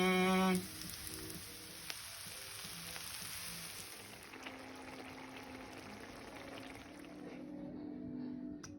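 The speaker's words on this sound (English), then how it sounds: "We got some onions and garlic on some spices on the go." Onions, garlic and spices fry in a pan with a soft, steady sizzle and crackle that lasts throughout. It is quiet and close, with a few clinks of utensils.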